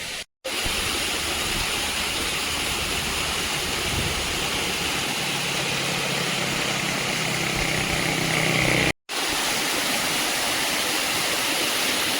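A waterfall beside the road down a ghat near Wai roars as a loud, unbroken broadband rush. The sound is close and steady, with two brief dropouts, and an engine hum sits underneath.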